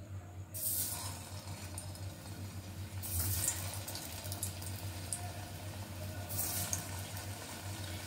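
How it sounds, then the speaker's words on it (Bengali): Chhana balls for kofta frying in hot oil, a steady broadband bubbling sizzle that continues throughout, with a low hum beneath and a few brighter surges. "আবার বাকি ছানাগুলো আমি ঠিক এইভাবেই দিয়ে ভেজে নেব"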